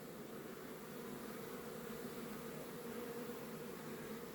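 Bees buzz around a beehive in a steady, continuous hum that holds evenly throughout, soft and unbroken, with no talking.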